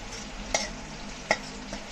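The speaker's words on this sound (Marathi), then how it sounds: "मस्त असा कांदा पण फ्राय झाला." Onion fries in a pan while being stirred, a steady soft sizzle broken by two sharp utensil scrapes against the pan.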